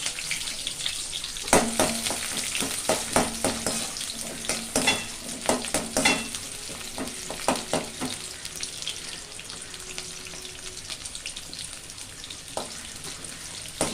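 Small onions sauté in a pan, with intermittent stirring scrapes and clatters over a steady low sizzle, and a few louder knocks from a spoon against the pan.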